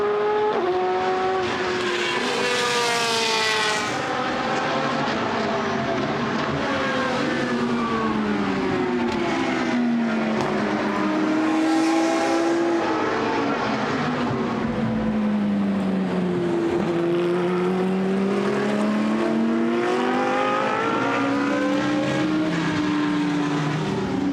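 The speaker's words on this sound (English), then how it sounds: "Then you can see the two Audis nose to tail behind." Audi GT race cars at Misano run nose to tail, their engines roaring loud and steady throughout with rising and falling pitch as they pass and shift, a continuous wall of racing noise with no talk.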